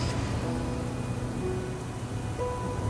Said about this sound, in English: Another night with no sleep gives way to another day of torrential rain